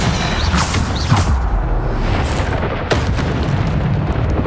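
Bombarda spell blasts in Hogwarts Legacy, loud booming explosions with bursts and crackling debris, several detonations in quick succession over a dense combat din.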